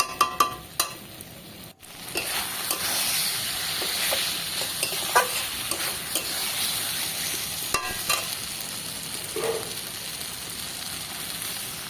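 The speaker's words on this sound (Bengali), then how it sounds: "এবার চিংড়িগুলো দিয়ে দিলাম। চিংড়িগুলো দিয়ে আর একটু আমি কষিয়ে নেব।" Prawns sautéing in a spiced masala for prawn malai curry: a steady, close frying sizzle with scraping stirs, preceded by a few sharp clinks of a utensil against the pan.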